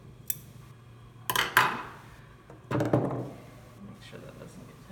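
Thread tails snipped with scissors beside a Consew 397E industrial sewing machine: a few close, crisp cuts and clicks with rustling of fabric and thread between them, set against a low machine hum.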